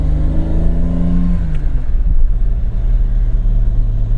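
BMW E34 M5 engine heard from inside while driving, revs rising then dropping off as gears change, settling into a steady low drone, loud and close with no talk.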